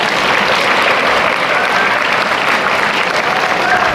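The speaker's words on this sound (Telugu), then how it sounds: "సార్కి ఒక క్లాప్స్ కొట్టండి." Audience clapping for a veteran maths teacher at a motivational event for tenth-grade students, dense, steady applause filling the hall throughout at close range.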